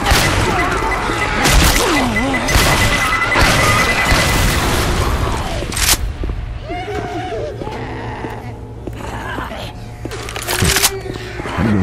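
A grenade explodes in Left 4 Dead 2 on the Dark Center level at Expert difficulty, giving several loud booming blasts over a busy mix of game effects and character voices.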